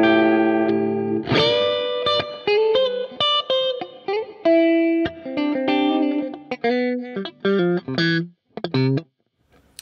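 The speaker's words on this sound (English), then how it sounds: "All the way up, there's lots of reverb." An instrument played through a Flamma FS02 budget reverb pedal with the level set all the way up: a series of sustained, plucked notes and chords ringing out in long washes of reverb, each one decaying into a trailing tail before the final fade.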